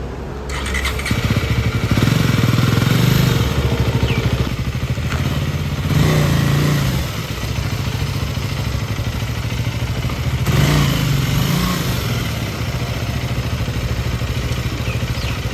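A brand-new KTM Adventure 390 motorcycle starts up and idles loud and close, its single-cylinder engine revving in a few bursts with clatter and a squeal before settling into a steady running rumble.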